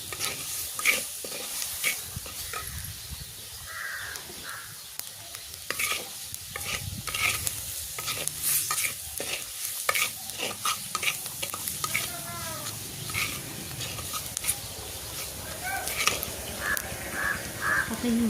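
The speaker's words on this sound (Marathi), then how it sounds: "मीठ टाकल्यानंतर पुन्हा 1 मिनिट हलवलं." Safflower (kardai) leaf greens stirred with masala in a pan: steady scraping and sizzling with repeated spoon strokes, fairly close and continuous, with faint bird caws in the background.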